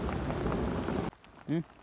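Rain pours in a steady broadband hiss for about a second, then cuts off abruptly, followed by a brief voice.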